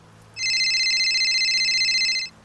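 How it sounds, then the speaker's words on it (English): A phone rings once in a single sustained electronic trill of about two seconds, bright and clear against a quiet background with no one speaking. "My phone rang, making me jump."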